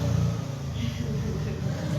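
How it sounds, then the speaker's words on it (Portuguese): A motorcycle passes by close at hand, its engine droning and revving in a rumbling growl that stays strong throughout. "A moto passou aqui agora."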